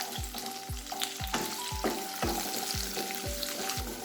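Shallots and small pieces of ginger sauté in hot oil in a pan for soya biryani, giving a steady sizzle and crackle. A spoon or spatula knocks against the pan in a regular stirring rhythm.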